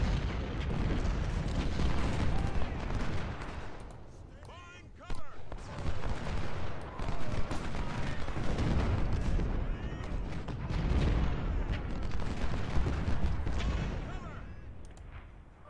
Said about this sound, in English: Soften that artillery a little bit more